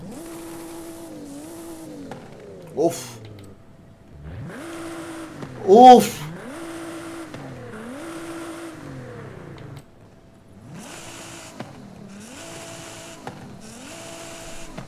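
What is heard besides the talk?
Nissan 350Z exhaust revving in video game Forza Horizon 5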